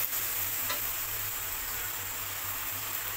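Vegetables frying in a pan while being stirred for a Bengali dal bori mixed-vegetable dish, a steady close sizzle with a brief scrape of the spoon, no talk.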